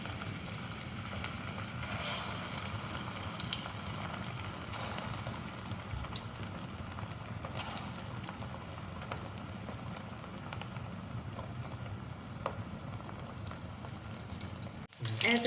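Meatballs (koftay) sizzling in hot olive oil, a dense steady crackling hiss that runs throughout at even strength, with a brief clatter at the end.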